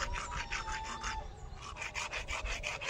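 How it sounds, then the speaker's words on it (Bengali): Scales being scraped off a snakehead fish by hand-rubbing at a riverside ghat, a fast run of rhythmic rasping strokes with a brief pause midway before the scrubbing resumes, close and fairly quiet. "এই ঘাটে ভালো করে ঘষে ঘষে আঁশগুলো তুলে নেব।"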